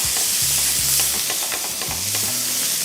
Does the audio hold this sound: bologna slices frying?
yes